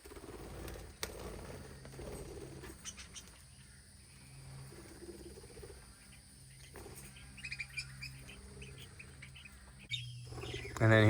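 Parrots in a small aviary give scattered soft chirps and tweets, with occasional wing flutters and faint rustling, ending in a louder close burst; no one speaks.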